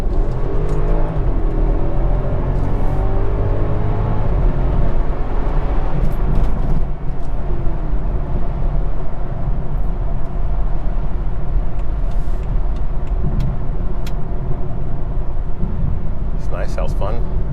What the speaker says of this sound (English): And I'll go ahead and accelerate, I guess.